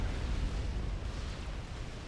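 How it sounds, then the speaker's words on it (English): A delayed explosion in the real-time strategy game Supreme Commander, heard as a sustained low rumble that stays loud and steady throughout, with no distinct sharp blast. "Delayed explosion."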